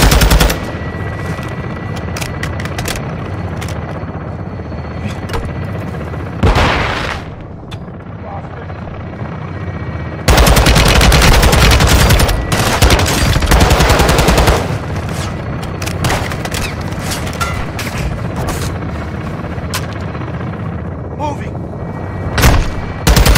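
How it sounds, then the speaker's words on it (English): Sustained belt-fed machine gun fire rattles through a Call of Duty Modern Warfare II campaign battle at an enemy HQ, loud and dense with bursts, booms and a helicopter-like drone, punctuated by radio chatter and voices. "Taking belt-fed fire from the big battalion."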